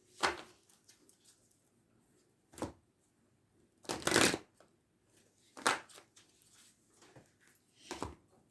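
Love reading cards being shuffled by hand, five or six quiet riffling bursts separated by pauses, close and soft in an otherwise still room with no talking.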